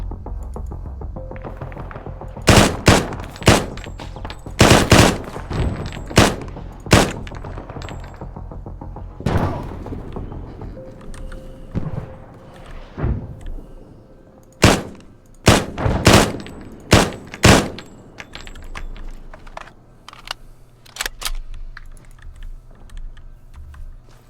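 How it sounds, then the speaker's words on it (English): Bursts of gunfire in a military video game, sharp loud shots in irregular clusters with gaps between volleys. "I hear shots, but I'm not seeing them anymore."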